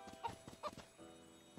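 A chicken in a video game clucks in a quick, faint run of short, choppy calls against low game background sound, with no talking.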